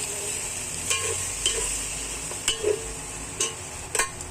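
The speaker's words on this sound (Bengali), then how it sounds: "এবার ভালো করে একটু মশলা কষিয়ে নেব" Onion frying with ginger paste, turmeric and chili powder in a pan, a constant hiss of sizzling oil broken by sharp scrapes of a spatula at irregular intervals, with no one speaking.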